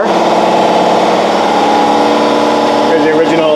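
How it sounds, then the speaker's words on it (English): A steady mechanical drone of a running air compressor in a 1968 Triumph TR250 restoration workshop, constant and loud with a dense hum, while people talk underneath. "sorry for the compressor noise"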